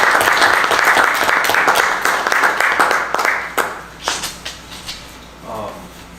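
Attendees at a city public safety board meeting give a police officer a round of applause, a full burst of clapping that thins into a few scattered claps and fades out, followed by a brief voice.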